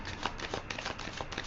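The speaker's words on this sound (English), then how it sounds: "I'm going to put one more shuffle and rifle on these cards" Tarot cards being shuffled and riffled by hand, a steady run of close, crisp papery flutters and snaps with no voice over them.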